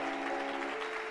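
A church congregation applauds and cheers during a worship service. It is a short burst of dense clapping blended with a sustained, tonal swell of voices or music, loud and continuous with no break.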